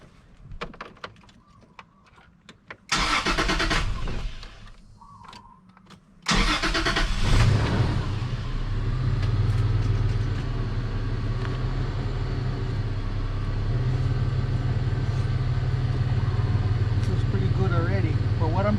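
A 2000 Toyota Tacoma cranks and fires up, then settles into a steady, loud idle, preceded by clunks and a door, with a person talking early on.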